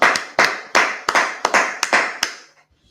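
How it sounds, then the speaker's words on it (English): Slow, deliberate clapping, about eight loud individual claps in an even rhythm, close and dry, then silence. "Clap it up."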